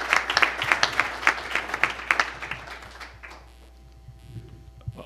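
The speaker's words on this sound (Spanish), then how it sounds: "Un fuerte aplauso, por favor." Audience at a corporate governance event gives a short round of applause for a panelist, a few seconds of crisp, close clapping that tapers off into near quiet.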